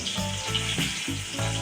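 Cumin-laced spice paste sizzles steadily in hot oil while being fried with a little sugar, a dense continuous crackle broken by a few soft stirring scrapes, close and fairly loud with no voices.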